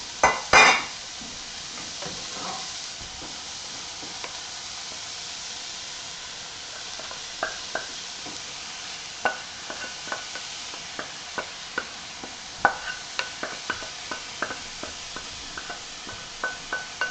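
Onions added to browned beef for Philly cheesesteaks and stirred in a hot pan, with a steady sizzling hiss under repeated light scrapes and taps of a utensil against the pan, close by.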